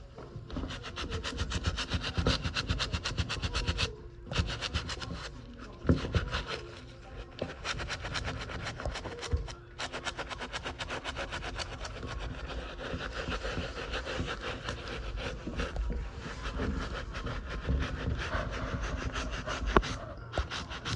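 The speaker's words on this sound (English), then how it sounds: "And then you want to take the nylon brush, super soft, wet it again." A super-soft wet nylon brush scrubs the sock liner of a Jordan DB 4 sneaker in rapid, steady back-and-forth strokes, close and continuous with a few brief pauses, and no talking.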